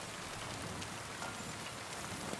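Steady rain falls around a castle in the video game Kingdom Come Deliverance 2, an even, close patter and hiss of drops on surfaces with no voices.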